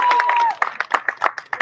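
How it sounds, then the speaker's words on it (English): Applause for award winners at an awards event breaks out after a brief tone, with a run of distinct hand claps from a small crowd at moderate distance. "Could we please have a round of applause for Poland's 14th favorite sons?"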